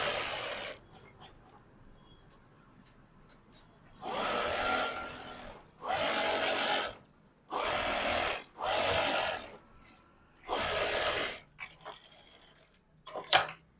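Bursts of sewing machine stitching on fabric for an Anarkali dress, several runs of steady rapid clatter separated by pauses, close and fairly loud with no talk.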